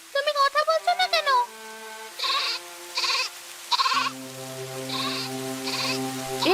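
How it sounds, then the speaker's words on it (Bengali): A goat bleats in a shed during rain, several quick wavering cries up close, then more drawn-out bleats over a soft patter of rain. "শুনছো না ছাগলের ঘর থেকে কেমন আওয়াজ"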